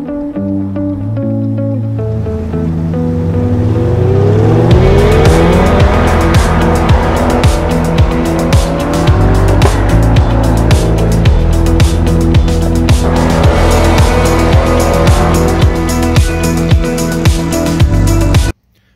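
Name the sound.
Chevrolet Corvette EV car driving in GM promo video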